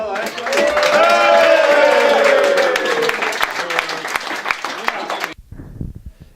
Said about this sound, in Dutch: Mogen we ene keer een heel hartelijk applaus